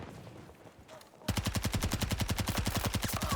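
PP2000 submachine gun in Battlefield 2042 firing a long, steady automatic burst of rapid evenly spaced shots, loud and close, starting abruptly after a quieter lead-in.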